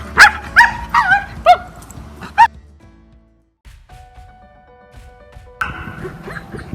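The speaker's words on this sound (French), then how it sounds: "on a eu un premier changement d'aboiement puisqu'il n'accepte pas la laisse" A white Samoyed dog, aggressive and refusing the leash, lets out a rapid series of loud, sharp barks and yips close by, then falls quiet, followed by soft shuffling and a burst of rustling noise.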